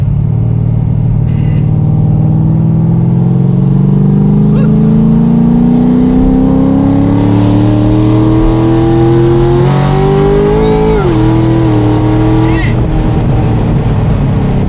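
A Corvette engine is revved during a throttle test, its loud tone rising steadily over several seconds before dropping back and settling into a rough idle. Voices talk faintly over it.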